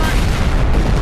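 A dense, loud blast of battle gunfire from the Dragon War 2 film, a continuous booming roar with no break across the short moment.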